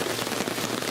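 Heavy rain pours down outside a camper at night, a dense, steady hiss of drops pattering on the roof and surroundings, loud and continuous with no voices.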